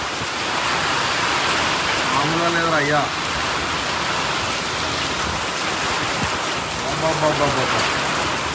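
Heavy rain drumming on a Bolero as it drives along a road at night, a dense, loud, steady hiss throughout, with a voice speaking briefly over it twice.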